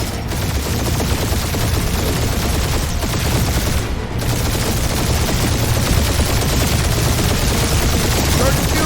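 Sustained barrage of gunfire in the video game Guardians of the Galaxy, dense overlapping rapid shots and blasts pounding continuously at high loudness, briefly thinning for a moment midway before resuming.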